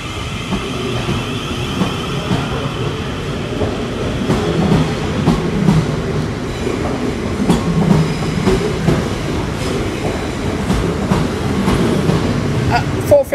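A South Western Railway class 450 electric train pulls out of Clapham Junction with a steady, close rumble and faint rhythmic wheel clicks that hold throughout, ending in a brief squeal.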